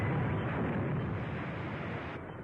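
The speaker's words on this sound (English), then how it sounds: "That's a 3-inch shell they're firing at us." A 3-inch artillery shell bursts close by in a 1945 film serial, a loud, sustained rumbling blast that fills the whole moment and slowly tapers off.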